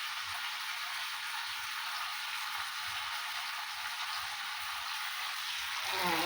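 Chicken pieces sizzle and fry steadily in hot oil in a home kitchen, a dense continuous crackle close by with no talk over it, after fish fried with onion and mustard.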